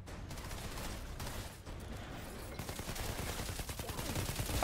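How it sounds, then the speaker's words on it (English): Sniper and other gunfire in the shooter game Outriders, a continuous rough barrage of shots and combat noise with a few louder cracks, fairly close and dense throughout. "where I'm getting sniped"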